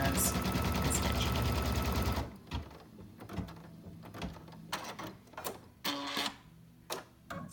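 A Brother Dream Machine embroidery machine runs a dense, rapid stitching burst, then falls to intermittent clicks, thumps and short mechanical whirs as it continues working the design.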